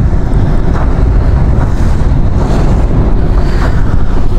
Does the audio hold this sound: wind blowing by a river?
yes